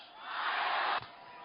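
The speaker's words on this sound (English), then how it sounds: "President Obama campaigning before a raucous crowd of thousands of students at The Ohio State University." A raucous crowd of thousands of students at an Ohio State University campaign rally for President Obama roars in a dense, loud wash of cheering that swells, holds, then drops off abruptly to a quieter murmur.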